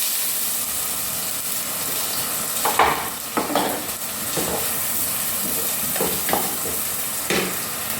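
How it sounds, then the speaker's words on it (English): Onions frying in hot sunflower oil in a pan for a quick bolognese, giving a steady close sizzle and hiss with occasional louder stirring scrapes, no talking. "I'm gonna let the oil to heat up my onions"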